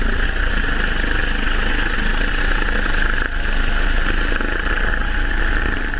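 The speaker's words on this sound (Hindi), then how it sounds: "वहां बचाव दल का हेलीकॉप्टर पहुंचता है" A rescue team's helicopter hovers over a snowy slope, its steady rotor and engine roar loud and constant throughout, with a brief dip midway and no voices.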